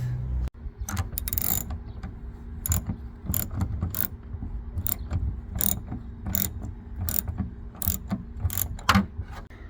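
A ratchet removes screws from the rear camera panel of a Ford Explorer, sounding as repeated bursts of quick metallic clicking, close and crisp, separated by short pauses.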